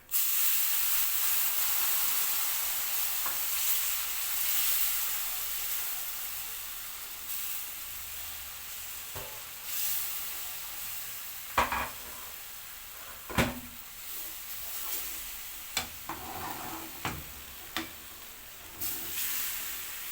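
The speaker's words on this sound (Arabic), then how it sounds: "ننزل بالميه السخنه، بسم الله الرحمن الرحيم، ونوطي النار." Hot water poured into a sizzling pan makes a loud, steady hiss that slowly fades, then utensils knock and scrape in scattered clicks as the ingredients are stirred, with no talk.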